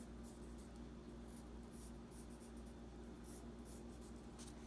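A pencil sketches small thumbnail drawings of wheels on paper, making soft, continuous scratchy strokes that come in short bursts over a faint steady background hum.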